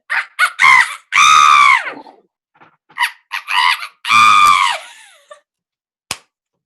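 A person imitates a cockerel crowing with a loud, shrill vocal shriek, two long strained calls each preceded by short yelping bursts, followed by a brief click.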